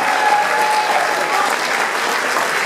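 A concert audience in a Liverpool theatre claps in a dense, steady burst of applause, close and loud, with a faint crowd murmur underneath.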